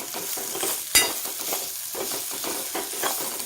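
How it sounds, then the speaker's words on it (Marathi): Masala sizzles steadily in a hot pan while being sautéed for Kolhapuri misal, a continuous close frying hiss with a single sharp clink of a spoon against the pan early on. "आपल्याला हे छान असं परतून घ्यायचे"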